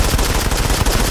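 Automatic gunfire in the Modern Combat 5 video game: loud, close, continuous rapid-fire bursts filling the whole moment with rattling shots, no voices.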